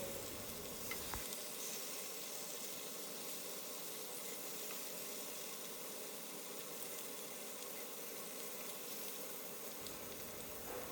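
Hilsa fish frying gently in a pan, a faint, even sizzle and hiss holding steady throughout with a small clatter at the very end.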